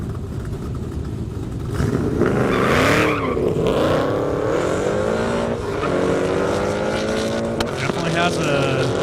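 Mustang fitted with a Whipple-type supercharger making a high-speed run down a half-mile airstrip, its engine rising and sweeping in pitch at a distance, steady and moderately loud over open-air background noise.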